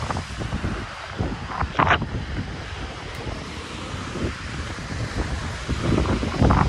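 Wind gusts and sea waves wash against a lonely shore at night, heard continuously and close, with rumbling microphone buffeting and surges of surf rising and falling throughout.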